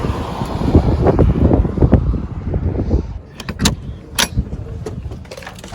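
Strong wind buffeting a parked vehicle, a loud gusty rumble with thumps and rattles against the body, easing then gusting again with sharp creaks and clicks, close and without speech.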